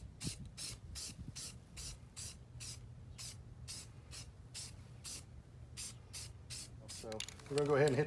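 Repeated short bursts of spray paint hiss as a second coat goes onto a DIY planter, about a dozen evenly spaced pulses close by, with a brief clatter near the end.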